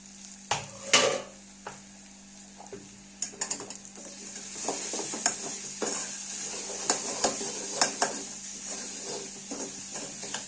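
Chili powder and salt masala roasting in a pan, with soft sizzling and repeated scraping and stirring strokes that tap against the metal at an irregular pace, close by and fairly quiet.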